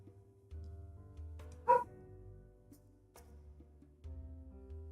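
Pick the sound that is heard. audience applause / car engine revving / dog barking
dog barking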